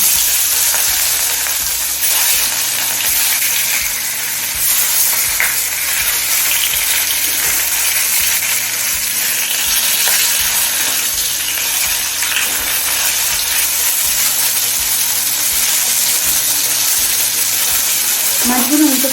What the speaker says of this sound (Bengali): তেলটা একদম ধোয়া ওঠা গরম করে নিয়েছি এবার মাছগুলো ভেজে নেব